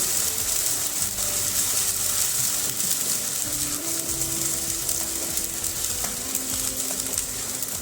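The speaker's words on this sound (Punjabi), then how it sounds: "ਪਿਆਜ਼ਾਂ ਨੂੰ ਆਪਾਂ ਭੁੰਨ ਲਵਾਂਗੇ" Onions fry in a pan for chole, a loud, dense, continuous sizzle with crackling hiss that stays steady and close throughout, some faint stirring clatter underneath and no talking.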